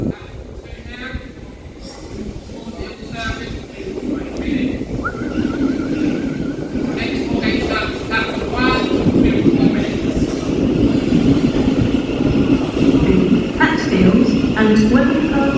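A London Underground train at Old Street station rumbles and clatters, loud and close, and builds in intensity as it arrives, with people talking faintly over the noise.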